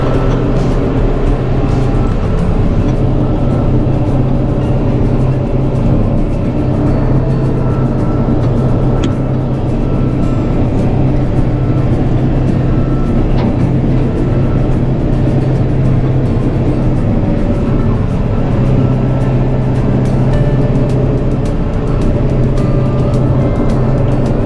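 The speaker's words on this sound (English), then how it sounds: "Let's start the truck." Truck engine idling and running steadily on a farm job, a loud continuous low rumble with no clear break or change throughout.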